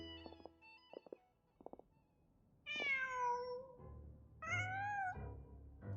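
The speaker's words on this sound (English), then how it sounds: "Just a cat." A cat in the video game Genshin Impact gives two clear drawn-out meows after a few soft clicks and taps, close with a low hum beneath and no talking.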